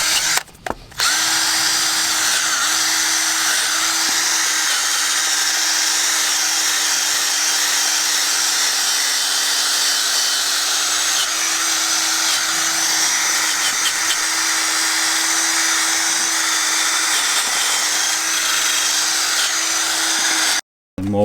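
A Ryobi power drill fitted with a universal-fit wire brush spins steadily for about twenty seconds, loud and close, with a constant motor whine and a gritty scrubbing hiss over the top.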